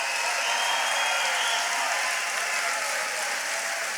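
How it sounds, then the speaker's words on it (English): Dense, steady applause from a large crowd at a political rally for Donald Trump in Newtown, Pennsylvania, filling the space evenly and loudly throughout with no speech on top. "we all need to give another, if heartfelt, round of applause to Jim Worthington"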